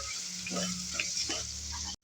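Spices and green peas fry in a pan for a North Karnataka-style pea stir-fry. A light, fairly quiet sizzle comes with a few soft stirring knocks, then the sound cuts out abruptly just before the end.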